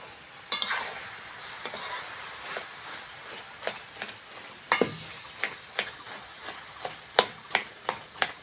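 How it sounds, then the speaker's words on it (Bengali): Boiled potatoes are mashed into cabbage chorchori in a pan: a soft sizzle runs underneath while a spoon taps and scrapes in a fairly regular series of sharp knocks, close and without talk. "আলুও সিদ্ধ হয়ে গেছে এবার আলুগুলো অল্প একটু ঘেটে ঘেটে দেবো"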